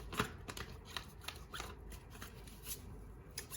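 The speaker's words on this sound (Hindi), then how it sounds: "I'll shuffle one more time" Tarot cards being shuffled by hand during a reading, a quick run of soft riffling and flicking taps repeating at close range, with no talking over it.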